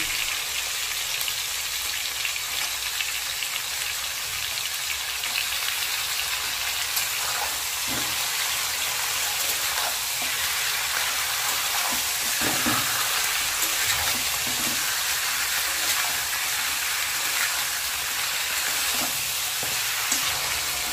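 Chicken fries with onions in oil in a pan, a steady broadband sizzle with occasional stirring scrapes and clinks over about twenty seconds, close and continuous with no talking.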